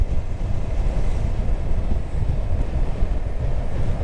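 Heavy wind roar buffeting the microphone while riding a Honda CB300R motorcycle at about 65, a steady loud rushing, low-heavy rumble that lasts throughout with no break.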